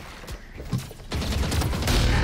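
Valorant gunfire crackles in a rapid, loud burst of shots over about two seconds, growing denser toward the end.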